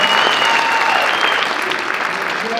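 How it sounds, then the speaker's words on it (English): A comedy club audience gives a loud, sustained round of applause for the other comics on the bill, with cheering and whistles mixed into the clapping. "how about a round of applause for the other comics?"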